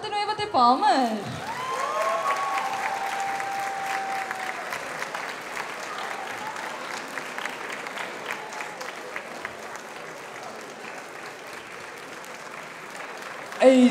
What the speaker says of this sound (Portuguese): Ah, continuem a bater palmas!